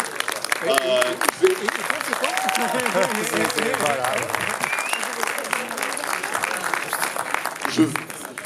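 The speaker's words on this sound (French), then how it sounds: "Là, ça mérite un applaudissement." A church congregation at a Sunday service for Father's Day breaks into sustained applause, a dense continuous patter of many hands filling the room, with a few voices calling out over it.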